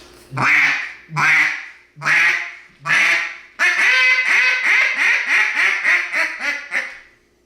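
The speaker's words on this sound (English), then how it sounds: "We'll start with the duck calls." A duck call blown close up: four separate drawn-out quacks, then a quick run of about nine rapid quacks that trail off.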